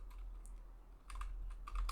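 Fast typing on a computer keyboard, a close run of light clicking keystrokes that comes in bursts, with a brief pause in the middle and no voices.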